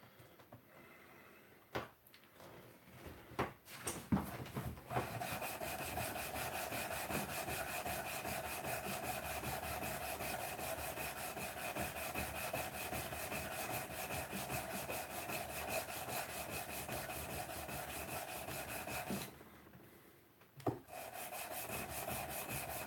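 Hand sanding a knife blade, a steady, close rasping stroke that runs continuously for long stretches, with brief pauses near the start and end.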